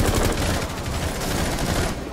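Heavy automatic gunfire in Rainbow Six Siege, a dense, loud barrage of overlapping shots that fills the whole stretch without letup.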